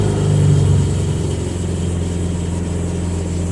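A 1974 Chevy Vega engine, newly running after fuel system repair, idles steadily up close with a brief rev at the start, then settles into a low, even rumble with no talking.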